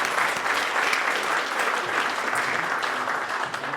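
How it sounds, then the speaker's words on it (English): An audience at an open data summit panel gives the morning's presenters a round of applause: dense, sustained clapping from a full room that carries steadily to the end. "if you could give them one more round of applause"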